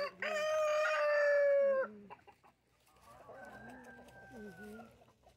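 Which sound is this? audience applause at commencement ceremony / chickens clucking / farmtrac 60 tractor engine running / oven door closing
chickens clucking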